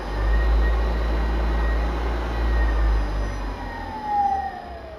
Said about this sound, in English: So start it up. It's not even a belt on it, so it's running nice and low.